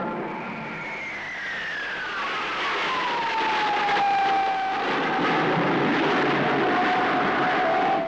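Folland Gnat jets fly in a formation display with a loud, sustained engine roar whose pitch sweeps downward as the aircraft pass, then settles into a steady whine that stays strong to the end.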